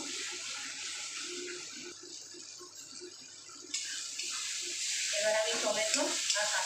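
Chital fish curry sizzles in a pan while being stirred, a steady hissing fry with soft scraping that brightens and grows louder toward the end, a faint voice underneath.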